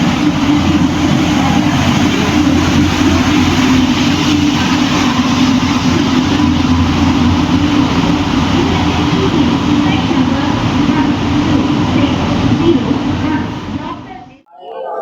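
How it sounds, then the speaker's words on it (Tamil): The Chennai Central to Mangalore Mail express train arrives in a steady, loud, continuous rumble with heavy low-end roar, holding for about fourteen seconds before cutting off, with a station announcement and talk heard over it. "மேங்களூர் மெயில் வந்துகிட்டு இருக்கு, வாங்க கேப்சர் பண்ணலாம்."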